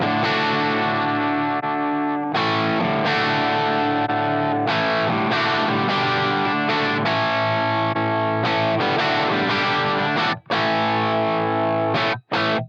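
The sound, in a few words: electric guitar through amp sim with sag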